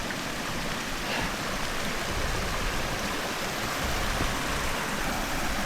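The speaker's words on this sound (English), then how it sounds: "Oh wow, we got some waterfalls." Waterfalls along the Bear Hair Gap hiking trail, a loud, steady broadband rush of falling water close by, continuous without pause.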